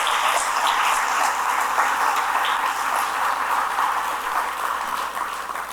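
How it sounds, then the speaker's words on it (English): Audience applause for the Downtown BID team at a downtown business forum, a dense, sustained clapping from a large crowd that holds steady and eases slightly toward the end. "Please give them a big round of applause."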